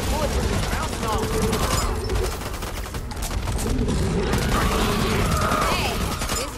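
Steady, loud gunfire in the Back 4 Blood co-op shooter, rapid overlapping shots and mechanical clatter running continuously with voices talking over it.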